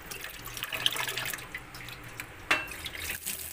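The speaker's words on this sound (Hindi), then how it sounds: "पानी आ गया, पीने का भरना है पहले।" Water running from a household tap, splashing and trickling at moderate distance with small drips, and a louder splash burst near the end; no one talks.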